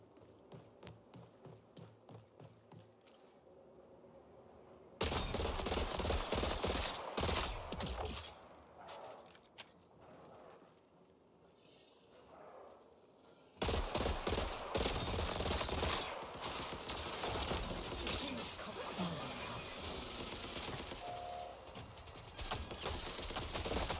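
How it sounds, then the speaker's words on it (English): Several automated turrets fire rapid, sustained bursts at the player in the game Marathon, loud, dense gunfire that breaks off briefly and then resumes for the rest of the span. "There's like 3 turrets shooting me."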